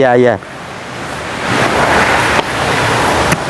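Water runs steadily from a spring feeding a lake, a broad continuous rushing wash that holds close and fairly loud for the whole stretch, with a brief voice at the very start.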